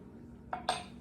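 A spoon clinks twice against a dish while someone tastes a nasturtium vinaigrette. The two quick, light metallic taps are close by and come a moment apart, with no talking.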